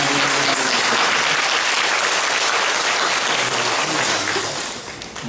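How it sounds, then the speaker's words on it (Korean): A church congregation claps in a dense, loud burst of applause that fills the room steadily and fades slightly at the end. "하나님께 영광의 박수 올려드리겠습니다."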